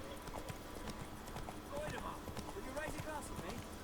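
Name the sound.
horse Roach galloping in The Witcher 3 video game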